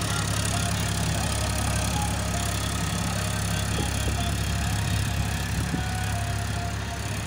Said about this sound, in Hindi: ये दूसरा ट्रैक्टर जो है, ये क्या कर रहा है, ज़मीन को जोत रहा है